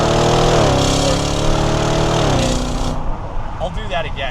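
A 2023 Audi RS Q8, a 591-horsepower SUV, revs its engine through quick stepped downshifts, its pitch jumping in a few distinct stages before the engine note drops away, with someone talking over it.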